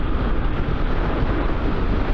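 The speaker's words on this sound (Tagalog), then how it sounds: "napakalakas ng hangin" Strong wind buffets the microphone in a steady, loud rumbling roar that never lets up.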